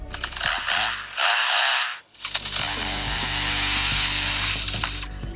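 Lyrebird mimicking a chainsaw, a loud close buzzing, rasping roar that cuts out briefly after about a second, then revs back up and runs continuously with rattling texture.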